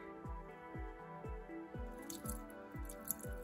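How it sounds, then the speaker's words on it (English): Rhythmic liquid drips and glugs, about eight repeating plops with falling pitch, close by, as water is poured steadily into a bioactive dart frog enclosure. "pour some water back in there."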